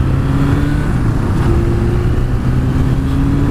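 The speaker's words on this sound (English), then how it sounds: "Well, tell you what, it accelerates nicely." A Suzuki GS1000 motorcycle, still running roughly, accelerates steadily and loudly with a continuous engine drone and rising tones, heard up close with no talking.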